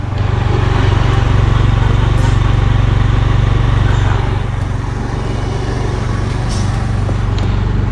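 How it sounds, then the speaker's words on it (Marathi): A kick-started motorcycle engine runs continuously at a steady idle, loud and close, with an even low rumble throughout and no talk over it. "फायनली गाडी चालू झाली."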